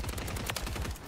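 Rapid automatic gunfire in Call of Duty Warzone, a tight burst of repeated shots in quick rhythm, loud and close, lasting about a second with no talk.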